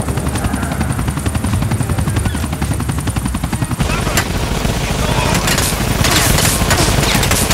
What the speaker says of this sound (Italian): La mitragliatrice.